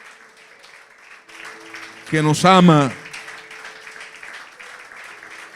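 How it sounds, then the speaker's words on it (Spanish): A church congregation applauds steadily as a background wash while someone speaks over it, his voice rising loudly for a moment above the clapping. "tribútale un aplauso a ese Padre celestial"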